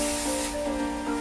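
A spray bottle hisses crisp starch onto fabric in a home sewing room, a close, steady spray that runs for about a second with faint tonal hum beneath, no voices.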